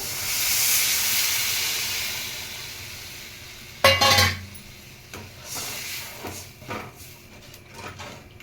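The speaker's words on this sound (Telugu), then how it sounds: "ఇప్పుడు చింతపండు పులుసు పోసుకుందాం" Tamarind juice poured over cooked tomatoes in a hot pan sets off a loud hiss of steam that fades, then a sharp burst of sizzling and a few scattered clinks and stirs.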